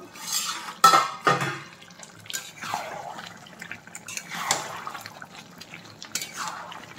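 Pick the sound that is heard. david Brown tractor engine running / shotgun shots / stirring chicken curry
stirring chicken curry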